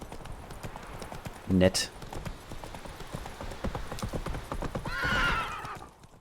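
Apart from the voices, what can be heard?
horse Roach in video game The Witcher 3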